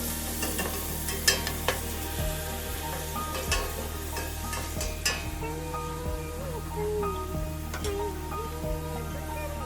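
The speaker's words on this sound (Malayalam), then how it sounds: "എന്നിട്ട് കുറച്ച് ഉപ്പിട്ട് കൊടുത്തിട്ട് നന്നായിട്ട് അങ്ങോട്ട് സോട്ട് ചെയ്യാം." Crab pieces sauté with salt in a pan for a Kerala-style crab roast, a steady sizzle broken by repeated sharp scrapes and knocks of a stirring spoon, up close with a low background hum.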